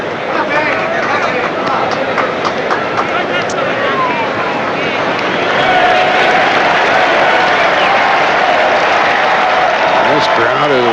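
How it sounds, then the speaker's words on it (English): At the 1991 MLB All-Star Game the baseball crowd roars, a dense, loud stadium cheer that swells a little partway through, with a commentator's voice talking over it. "This crowd is revved up and they're having fun."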